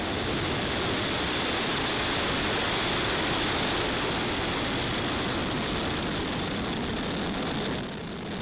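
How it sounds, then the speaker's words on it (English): A SpaceX Starlink rocket at ignition and liftoff, a dense, continuous broadband roar that stays loud and steady throughout, easing slightly at the very end. "Ignition and liftoff"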